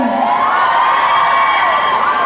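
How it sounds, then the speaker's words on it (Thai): An excited crowd of fans cheers and shrieks at a pop singer's single launch event, a loud, continuous high-pitched roar with no pauses. "ปรบมือกับตัวเองสิฮะทุกคน"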